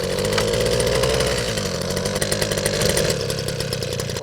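A repaired Eskimo ice auger's small two-stroke engine runs steadily and loudly at close range, a continuous buzzing drone with a slight rise in pitch partway through.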